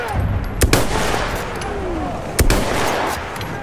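Battlefield 1 multiplayer combat with machine gun fire: a dense, loud stream of shots with two sharp, heavier bangs standing out near the start and the middle.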